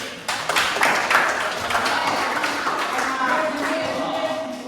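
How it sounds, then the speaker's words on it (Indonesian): Audience clapping in a classroom-style gathering, a burst of many hands that sets in sharply after a brief pause and then carries on steadily, with a faint voice audible beneath it. "tepuk tangan dulu"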